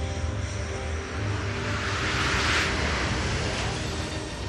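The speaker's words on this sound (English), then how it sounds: "a top-secret jet fighter makes its first flight" A Horten Ho 229 jet fighter in flight, heard as a steady, continuous engine roar that stays loud and even throughout, with a broad rushing wash and a low drone underneath.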